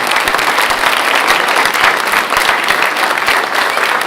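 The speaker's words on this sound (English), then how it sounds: "Let's give our students a round of applause again." At a school board meeting, the audience applauds students with a full, steady round of clapping. It is loud and even throughout, with barely any voices underneath.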